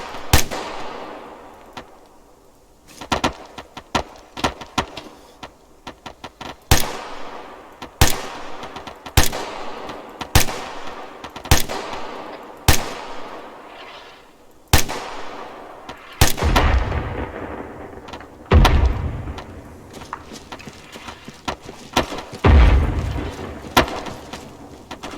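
Arma 3 gunfire in a squad exercise: a long run of sharp, loud shots, some single and some in short bursts, with heavy booming impacts near the end and echoing tails between them, with no talking.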